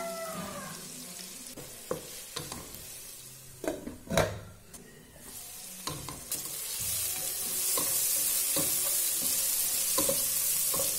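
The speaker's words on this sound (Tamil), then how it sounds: "வெங்காயம் நல்லா கோல்டன் ப்ரௌன் கலர்ல நல்லா வதங்கணும்" Onions with salt sauté in a pan for prawn biryani, a soft sizzle running throughout with sharp scrapes and taps of a spoon stirring against the pan. The frying hiss swells louder toward the end, and no one talks.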